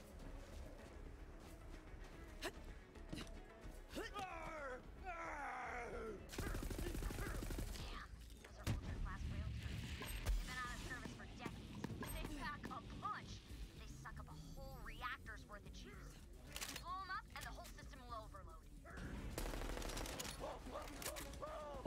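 Dense gunfire in Borderlands 3, rapid bursts and heavy impacts crackling through most of the stretch with loud thumping blasts around the middle, while a player's voice talks over the shooting.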